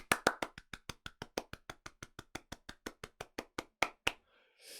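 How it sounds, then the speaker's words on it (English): One person claps a steady run of about twenty sharp, close hand claps at a conference talk, the rhythm holding evenly before stopping abruptly. "please do join me in giving Mandy our customary round the world round of applause"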